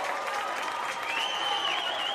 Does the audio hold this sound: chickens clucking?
no